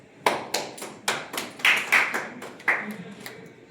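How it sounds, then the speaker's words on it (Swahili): A handful of slow, separate hand claps at a financial self-reliance session, close and moderately loud, with no speech over them. "Hiyo makofi ilikuwa ipigwa ama isipigwe?"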